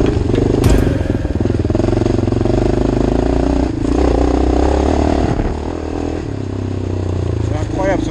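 A Yamaha XTZ 660 motorcycle's single-cylinder engine revs up and down close by, loud and throaty with mechanical clatter, the pitch rising and falling over several short bursts.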